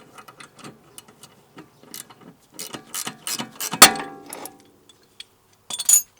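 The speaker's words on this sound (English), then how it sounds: "So I'm gonna grab a ratcheting wrench and we'll pop this loose." A ratcheting wrench clicks in short bursts while loosening a bolt on a vehicle, close and fairly quiet, the metallic ticks coming in uneven groups with a louder clunk near the middle and a final burst at the end.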